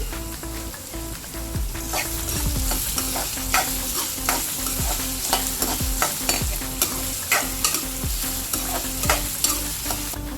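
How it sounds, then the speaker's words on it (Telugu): Vegetable pieces fry in a pan with a little turmeric, a constant loud sizzle broken by repeated clanks and scrapes of a spoon stirring against the pan, no voices. "ఈ ముక్కలు వేగుతుండగానే కొద్దిగా పసుపు అనేది వేసుకుంటున్నానండి"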